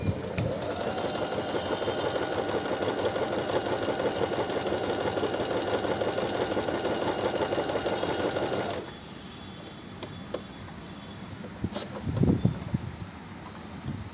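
A Singer Start 1304 sewing machine stitches cloth in a fast, steady, loud mechanical whir for about nine seconds, then stops abruptly, leaving quiet handling clicks and rustles.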